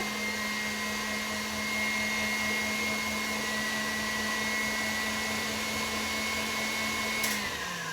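A blender whirs at a constant high speed while golden syrup is mixed into ingredients, a steady loud motor drone that holds for several seconds and then drops in pitch near the end.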